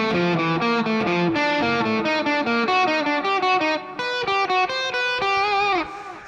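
Distorted electric guitar works through a finger-independence fretboard pattern, a steady run of picked notes played alone at close range with effects-heavy, sustained tone and brief gaps between phrases.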